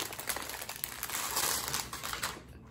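Plastic packaging of a makeup brush set being opened, close crinkling and rustling that carries on throughout at a soft level.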